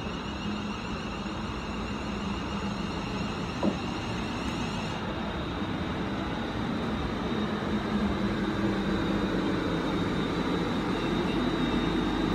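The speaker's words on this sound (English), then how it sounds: "350 370 now departing platform number 2" A London Midland Class 350 electric multiple unit, unit 350 370, pulls away from platform 2 at Milton Keynes Central, a steady broadband rumble and whine that builds slightly over the clip with no talking.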